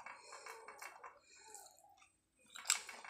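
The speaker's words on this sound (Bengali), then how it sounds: "শুটকি নাড়া দিয়ে খাই, দেখি কেমন খেতে লাগে" Close, soft chewing and wet mouth sounds while someone eats rice mixed with mashed dried fish (shutki), quiet smacking in short bursts with a pause before a louder wet squelch.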